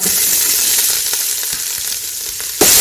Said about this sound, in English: once they splatter like that, you can insert your chopped onions